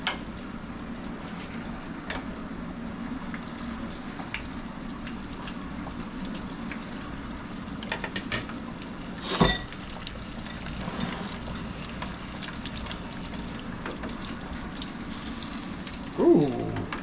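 Pork chops deep frying in hot oil give a steady, close crackling sizzle that runs unbroken throughout, with a couple of brief louder clatters and bubbling bursts, and no talk.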